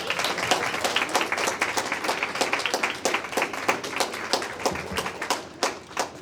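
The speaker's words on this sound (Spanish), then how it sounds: "démosle un aplauso para el inicio" A lecture audience applauds at the start of an academic conference talk, steady dense clapping from many hands filling the room for several seconds before tapering slightly at the end.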